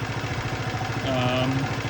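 A 2006 Volano scooter's small engine runs steadily at a moderate, uneven idle and will not rev all the way up, its pulsing putter close and constant, with a faint tone rising briefly partway through.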